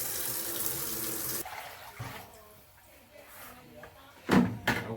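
Water runs steadily from a tap while cutting and polishing stone, then cuts off abruptly, followed by quieter handling and a couple of sharp knocks near the end.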